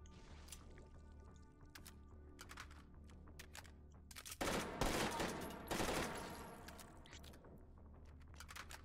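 Rapid bursts of gunfire from a shooting video game, sporadic clicks and shots before a louder, dense volley in the middle, then tapering back to scattered game sounds.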